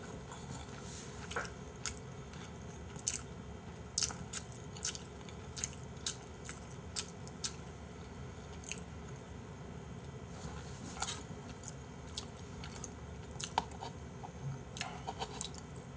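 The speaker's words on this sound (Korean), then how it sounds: "나 그래 요즘 많이 씹어 먹어" Slow, close chewing of rice, with soft wet bites and squishy clicks repeating irregularly about once a second over a quiet background.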